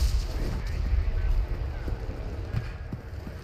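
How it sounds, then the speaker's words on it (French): Gunfire in the multiplayer war shooter Enlisted, a string of muffled shots and thuds over a low rumbling battlefield background, fairly distant and spaced irregularly. "il y a des balles qui se font tirer là"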